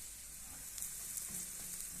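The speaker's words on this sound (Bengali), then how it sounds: "পেঁয়াজটা ভালো করে কষায় নিতেছি।" Onion and garlic frying in a pan while being stirred, a steady close sizzle with soft crackles and faint scraping throughout, no voices.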